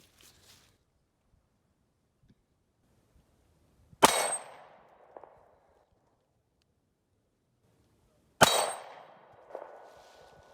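A nail gun fires while trim is being installed on a farmhouse three-season room, with two sharp, loud bangs several seconds apart, each followed by a brief rattling decay in an otherwise quiet setting.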